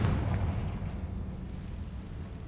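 A Confringo fire spell blast in Hogwarts Legacy lands as a deep, rumbling boom that is loudest at the start and rolls on as a dense low roar, with no talk over it.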